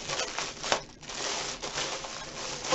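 A plastic bag holding deco mesh crinkles and rustles continuously up close, with a few sharper crackles as it is handled and opened.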